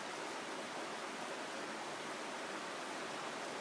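The current of a river roughly 100 feet wide and a couple of feet deep flows at an Appalachian Trail crossing. It makes an even, continuous rushing wash, faint and unbroken, with no voices over it.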